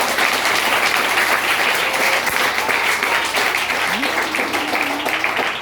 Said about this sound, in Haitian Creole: Combien de monde qui veut battre bravo pour bon Dieu ça?